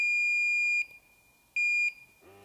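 A gas measuring device used in hazmat firefighter training gives two loud, piercing electronic beeps, each lasting under a second, with a short quiet gap between them and no talking.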